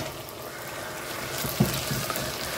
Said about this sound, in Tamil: இப்போ தக்காளி பழம் நல்லா எண்ணெயிலே நல்லா கசிஞ்சு வந்துடும்